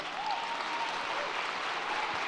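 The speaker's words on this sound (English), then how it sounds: "I think the applause should be for him because they didn't hit him." Audience at a Star Wars Celebration Europe 2023 panel on Andor applauds, a steady, moderately distant wash of clapping from a large hall that holds even throughout.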